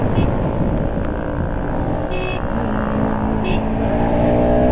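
A KTM RC 390 motorcycle with an aftermarket exhaust races on the road, its engine droning steadily at high revs with shifting pitch as it pulls and accelerates, loud and close throughout.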